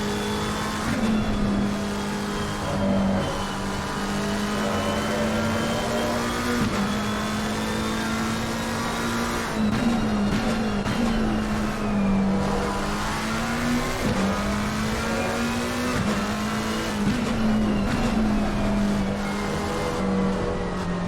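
Race cars lap the Hungaroring circuit in a sim racing league event, engines droning steadily and loudly. Pitch shifts rise and fall with upshifts and downshifts, and other cars pass now and then over continuous engine noise.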